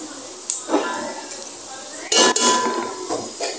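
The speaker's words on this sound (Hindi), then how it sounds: "चिकन डाल दिया मैंने।" Chicken pieces go into a pot of lightly browned onions with metallic clinks and scrapes of a spoon against the pot and soft sizzling, close by, while someone talks.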